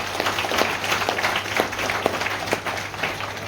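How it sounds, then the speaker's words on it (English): An audience at an international women's awards evening claps in sustained applause, a dense, steady patter of many hands at moderate loudness throughout. "a big round of applause for Fazana"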